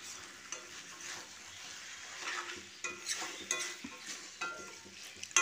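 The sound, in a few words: stirring cabbage cooked with rohu fish head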